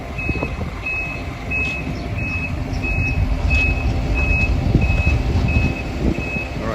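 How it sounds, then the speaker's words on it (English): A dump truck backing into an excavation site for a ranch home, its reversing alarm beeping steadily and evenly about a dozen times over a loud, rumbling diesel engine, with no talk. "put into the dump truck, which should be backing up any second now"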